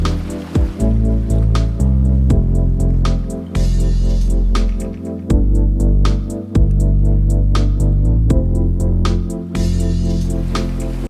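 A lo-fi beat plays back with a deep booming bass line and crisp, regular percussive hits in a relaxed, steady groove, loud and clear with no voices.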